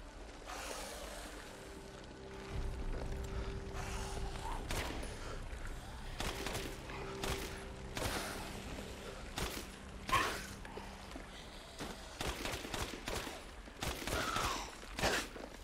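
A handgun fires rapidly in Resident Evil Village, sharp repeated shots in irregular bursts over a low ambient game background.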